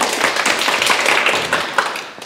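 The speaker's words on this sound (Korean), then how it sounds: "큰 박수 부탁드립니다." Dense, steady applause from an audience at a Sunday Buddhist dharma talk, many hands clapping together at close range for about two seconds with no voices over it.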